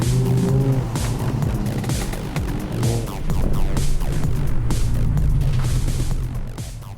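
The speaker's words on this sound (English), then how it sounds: "I was too distracted by the sound of this glorious engine" A lowered muscle truck's engine roars as it accelerates, a loud, throbbing rumble with gritty pulses that keeps going for the whole stretch, heard up close with no talking.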